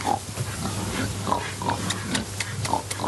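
Pigs grunt repeatedly on a farm, with short low snorts and oinks scattered throughout amid a busy barn hum and some rustling, close and fairly loud.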